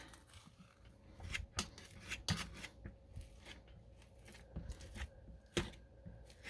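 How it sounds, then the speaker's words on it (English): Marked-down ripe bananas are mashed for pancake batter, making quiet, irregular squishing and scraping sounds in short bursts close by, with no speech. "let's get started by mashing our bananas"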